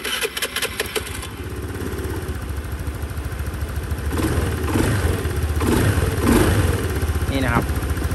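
A Honda Scoopy scooter with a newly replaced fuel injector is cranked and started, a short burst of starter clatter then a steady close idle that rises into revs, with a voice talking over it.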